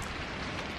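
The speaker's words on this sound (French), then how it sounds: "il pleut moins" Steady wash of rain falling outdoors, a dense, even patter close by with no voices.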